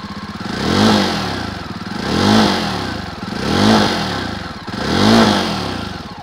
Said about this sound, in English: Now that's close to its mid-revs, which is around 6000 rpm.